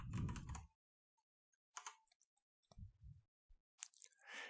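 Short bursts of soft clicking keystrokes on a computer keyboard, faint and close, separated by brief silences.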